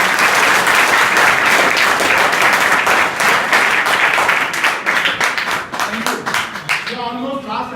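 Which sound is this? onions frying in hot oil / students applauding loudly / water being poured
students applauding loudly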